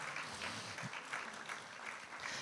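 Brief, fairly quiet clapping from a church congregation at a Sunday service, applauding a participant: a short burst of scattered hands with some uneven claps standing out.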